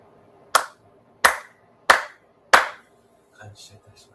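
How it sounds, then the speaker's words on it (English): Four sharp, evenly spaced ritual hand claps ring out at a Shinto Sunday service, each crisp and close with a short decay, followed by faint, soft sounds afterward. "4 sincere claps."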